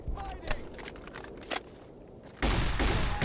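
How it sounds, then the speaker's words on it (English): Shotgun blasts in Fallout New Vegas, fired into a corpse: a couple of sharp, separate shots early on, then a louder burst of crackling, rumbling gunfire near the end, over quieter game ambience. "Use the last couple of shots of my shotgun on his corpse."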